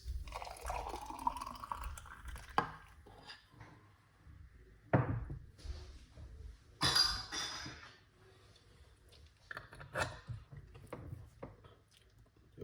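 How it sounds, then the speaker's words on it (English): Homemade healthy juice of pineapple, cucumber, ginger, lime, green apple, apple cider vinegar and honey poured into a container in a kitchen: quiet intermittent splashing and liquid trickles, with occasional clinks and knocks of glassware, close and faint. "Pour it out into this"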